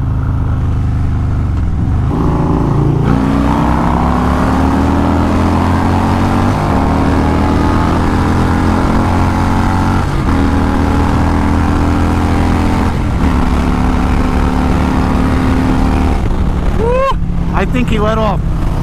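Two Harley-Davidson bagger motorcycles, one with a 131 stage-two engine and one with a 117, accelerating side by side, a loud steady engine roar with rising gear-by-gear pitch sweeps and a shift near the end.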